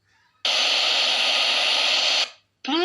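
A mini Bluetooth speaker in FM mode hisses loud, steady radio static for almost two seconds and then cuts off. A brief burst of sound follows.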